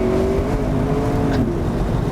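McLaren 650S supercar engine pulls hard under acceleration, a loud, close, continuous drone with a tone that shifts as revs change, no voices over it.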